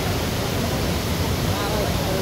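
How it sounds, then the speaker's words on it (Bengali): The Dulondhara waterfall pours through a gorge with a loud, constant rush of falling water. The roar is broad and even, with no pauses. "এই দেখেন একটা গিরিখাতের ভিতর দিয়ে ঝর্ণাটা"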